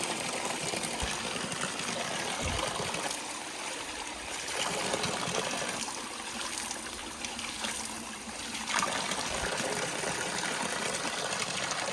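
Water trickles steadily along a small stream below a plantation, a continuous close, even rush with no break or voices.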